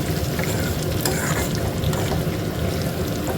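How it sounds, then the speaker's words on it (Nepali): Curry leaves roasting in a pan of oil while making poha (flattened rice chura), giving a steady, close, continuous sizzle and crackle with no talking. "कडी पत्ता हालेर यसमै फ्राई गर्छु है।"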